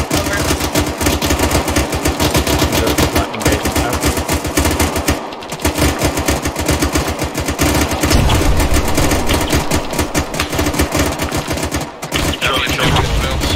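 Sustained automatic gunfire in the ArmA 3 military video game, loud rapid bursts hammering almost without pause, close and dense, with brief gaps between volleys and faint radio chatter underneath.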